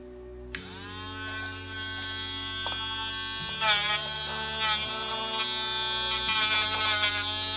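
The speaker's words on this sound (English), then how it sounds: "So now we can use the Dremel tool to get this done." A Dremel rotary tool runs with a steady high buzzing whine that shifts pitch several times as the load changes, close by, with brief grinding bursts partway through.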